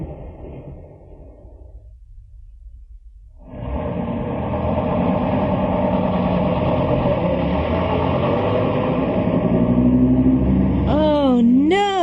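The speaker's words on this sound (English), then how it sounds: "That was the last bus home and we've missed it." The last bus home pulls away on a warm evening, a loud idling then accelerating engine rumble starting after a quiet stretch with faint voices, continuing steadily, with a voice exclaiming near the end.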